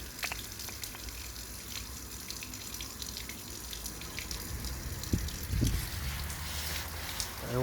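Clear water running and gushing out of an underfloor heating circuit during a sludge-flushing clean, a steady close splashing stream with a few louder bursts near the end.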